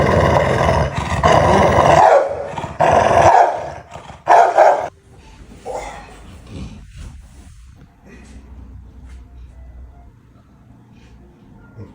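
A Rottweiler growls and barks in loud, rough bursts, then falls quieter with low rumbling and scattered faint sounds toward the end.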